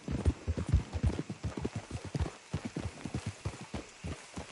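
Horse hooves clip-clopping at a steady walking rhythm in Red Dead Redemption 2, close and distinct, each hoof strike clearly separated.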